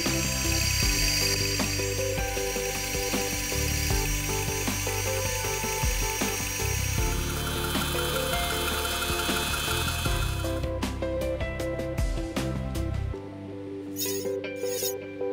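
Metal lathe machining a brass clock bezel profile, a steady mechanical whir with rattling cutting noise running throughout, loud and close, then breaking into sharp clicks and taps near the end, with no voices.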